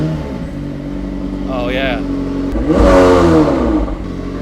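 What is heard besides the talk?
McLaren supercar engine starting and revving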